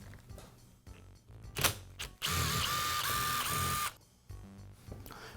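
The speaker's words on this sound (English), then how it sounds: "next I'll remove the screws that secure the gearbox to the motor housing" Screws being backed out of a Makita angle grinder as its gearbox is separated from the motor housing: close, loud mechanical ratcheting and clicking, with a sustained whirring burst in the middle and lighter handling clatter before and after.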